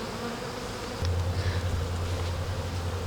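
A honeybee swarm drones around the hives, a continuous close buzzing that grows louder after the first second and holds steady.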